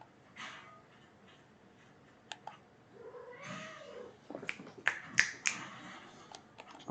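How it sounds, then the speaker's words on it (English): A pet cat meows close by in a quiet room, with several short, distinct meows clustered toward the end, along with light tapping clicks and faint rustling in the background. "My cat meowing again."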